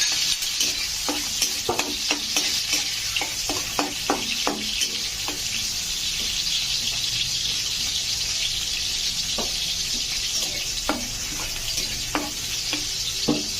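Onion and garlic sizzle steadily in a hot pan for fried rice, with frequent scraping clicks of a spatula stirring the pan over a continuous bright hiss, close and fairly loud with no voices.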